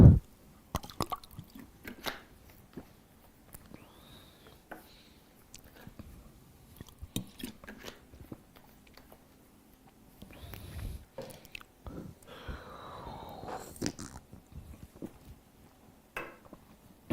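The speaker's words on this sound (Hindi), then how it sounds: "मैं थोड़ा सा पानी पी लेता हूँ यार" A man pauses to drink some water, producing scattered soft gulps, sips and wet mouth clicks at an irregular pace over a quiet room, with no talking.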